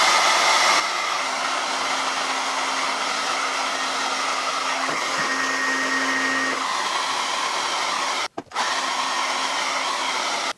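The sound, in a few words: hair dryer blow drying hair with a brush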